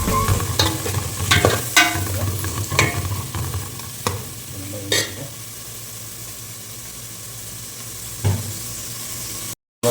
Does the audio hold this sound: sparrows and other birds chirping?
no